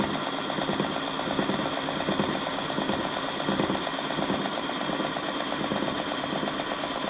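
Onewheel electric hub motor accelerating toward 50 km/h, giving a steady, loud whining drone with broadband road and wind noise and no talking.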